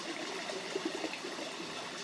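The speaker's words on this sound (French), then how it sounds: "Écoutez le son de la rivière aussi loin que vous le pouvez." River water flowing nearby, an even rushing wash dotted with soft bubbling and trickling detail, continuous and alone.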